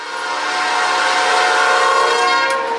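A fast, fairly short freight train rolls past a road crossing, a loud continuous roar of wheels and cars with steady tonal whine, close by and sustained throughout with no talk.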